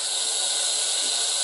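A Power Pressure Cooker XL releases a strong, steady hiss of steam, loud and close, holding evenly without a break for the whole moment.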